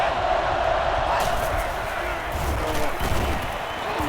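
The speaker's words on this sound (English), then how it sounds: "The crowd is really letting them hear it." Dense crowd noise in the NCAA Football 09 video game roars continuously, a broad wash of cheering with scattered thumps and shouts.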